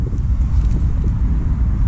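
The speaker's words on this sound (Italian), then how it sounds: "Traffico, traffico." Road traffic noise: a dense, continuous low rumble of passing vehicles, loud and close, with no distinct individual events.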